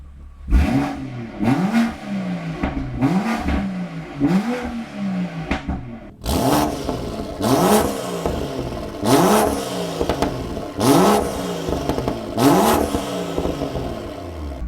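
With a new exhaust set to sport mode, a car engine blips about ten times in rhythmic, punchy bursts. The revs grow louder and fuller partway through, and the sound stays close with no talk.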